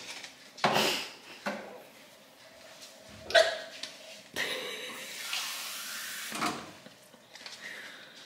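Someone in an apartment hiccups several times over a few seconds. The sharp, faint bursts are spaced irregularly against quiet room noise and faint household sounds.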